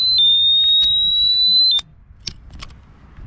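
Quad bike anti-theft alarm giving a steady high electronic beep tone for about two seconds, then sharp short beeps and clicks follow against low background noise.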